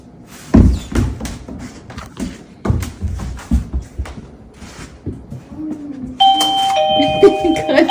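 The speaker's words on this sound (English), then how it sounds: "So it's just this non-stop ringing of the doorbell in the house." A wall-mounted house doorbell, rung by a dog wanting to go out, sounds with a repeated chime near the end after a run of thumps and footsteps, while a person talks in between.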